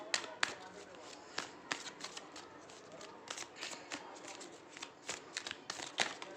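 A tarot card deck is shuffled by hand in a quiet room, a quick soft riffle of papery flicks and slaps in uneven bursts, fairly faint and close.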